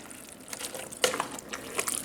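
Water trickles and splashes faintly into a pot of copycat Wendy's chili, a thin, uneven pour with a brief louder splash midway and light dribbling afterward.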